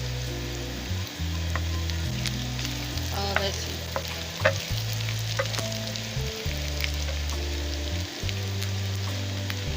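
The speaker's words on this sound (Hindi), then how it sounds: "लहसुन थूम अदरक फ्राई हो गया है।" Garlic and ginger sizzle steadily as they fry in a pan for a home-style potato and egg dish, with occasional stirring scrapes and brief clinks over the continuous crackle.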